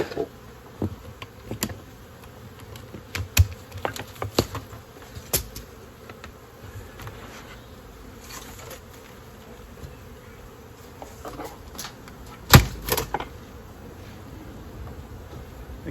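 Honeybees buzzing at an opened beehive during spring preparation, a steady low hum with individual bees zipping close past, plus scattered clicks and knocks from handling the hive.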